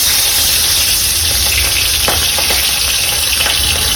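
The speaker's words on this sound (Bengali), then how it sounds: "এই যে এবারে মাছগুলো ভেজে নেবো" Fish frying in a pan, a steady loud sizzle running without a break, with a few soft clicks and stirring touches scattered through it.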